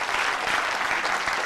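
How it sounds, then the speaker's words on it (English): Dense, steady applause from a room full of conference attendees at a PMI Bangalore chapter event, a continuous wash of clapping with no break. "Please give them a very, very big round of applause."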